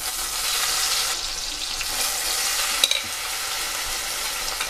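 Onions cooking in oil for an Andhra fish curry give off a steady, dense sizzle that carries on throughout, with a few soft stirring clinks near the middle and no voices.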